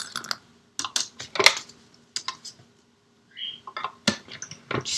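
Dry crisp cutting taps and snips close by, from a stitch-shaped circle being cut from card stock for a handmade bridge card, in irregular bursts separated by short quiet pauses and one brief scraping slide.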